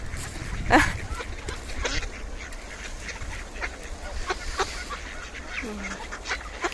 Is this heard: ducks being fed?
yes